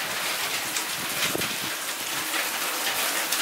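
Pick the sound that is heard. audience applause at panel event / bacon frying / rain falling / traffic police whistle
rain falling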